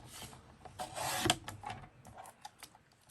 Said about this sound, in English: So grab my cutter, and we're gonna try and trim them both a little bit.